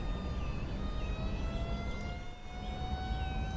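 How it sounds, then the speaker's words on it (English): Emergency vehicle sirens wail steadily in a city-building game, several overlapping tones gliding up and down at a distance over a constant low rumble of traffic, with no talking. "More fire engines responding."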